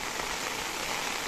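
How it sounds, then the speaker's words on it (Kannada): Dense, steady heavy rainfall in Kodagu during flooding hisses loudly and evenly beneath a flyover, a close wash of drops striking hard surfaces, with no talking. "ಈಗಲೂ ಮಳೆ ಜೋರು ಬರ್ತಾ ಇದೆ."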